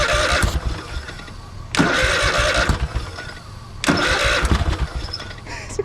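A Craftsman lawn mower engine, an abandoned machine started cold with the choke on, is cranked in three loud bursts, each catching briefly and sputtering before dropping off, with rough running noise between the pulls.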